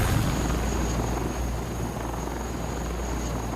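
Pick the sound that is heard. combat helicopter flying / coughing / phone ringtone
combat helicopter flying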